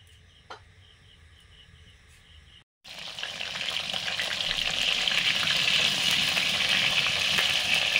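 Quiet background with faint chirps gives way after a brief gap to loud, steady sizzling of pointed gourd pieces frying in oil in a wok that grows stronger.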